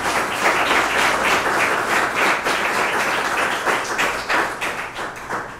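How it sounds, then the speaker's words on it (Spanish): Congregation at a Sunday Mass gives a loud, sustained round of applause for the Madre, dense hand claps continuing steadily and tapering slightly at the end. "Un fuerte aplauso para la Madre."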